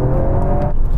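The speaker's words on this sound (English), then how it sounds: "Was that the Evo's gearbox I heard dying then?" A Mitsubishi Evo VI's gearbox fails at a drag race launch against a Toyota GR Yaris. A loud, close, strained engine roar and whir fill the whole brief second.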